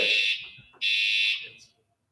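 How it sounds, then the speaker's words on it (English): A fire alarm rings with two loud, shrill electronic blasts close by, separated by a short gap, then falls silent. "that is a fire alarm"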